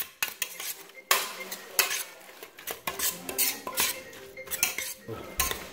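A metal spoon scrapes and clinks against a pot while pulling apart pressure-cooked pork. It makes a close, irregular series of scrapes, taps and soft squelches with brief pauses between strokes.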